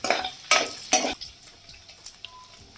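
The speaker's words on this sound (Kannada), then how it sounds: "ಇವಾಗ ಪನ್ನೀರ್ನ ಚೆನ್ನಾಗಿ ಫ್ರೈ ಮಾಡ್ಕೊಳ್ಳಿ" Paneer frying in ghee, with three sharp bursts of sizzle and stirring clatter in the first second, then a quieter crackle with small utensil taps.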